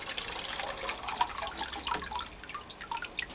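Water poured from a bucket to flush potted orchids trickles and drips steadily through the pots at close range, with no talking.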